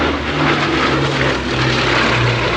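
A Bristol Blenheim vintage propeller aircraft flies past at an airshow, its piston engines giving a steady, loud droning hum with a pulsing tonal throb throughout.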